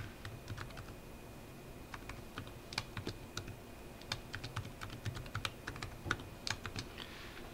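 A password is typed on a computer keyboard in a quiet room. The keystrokes are faint and irregular, come in short runs, and there is no talk.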